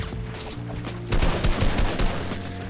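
Gunfire in a competitive team shooter game, rapid bursts of shots crackling over a steady game soundscape, starting around the middle and repeating in quick clusters.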